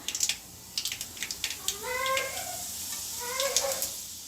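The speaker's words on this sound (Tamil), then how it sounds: "கடுகு நம்மளுக்கு நல்லா பொரியட்டும்" Mustard seeds splutter in hot oil while tempering a hotel-style poori potato masala, giving rapid sharp crackling pops at first, then a denser sizzle overlaid by brief wavering voice-like tones.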